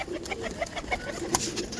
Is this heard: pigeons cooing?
yes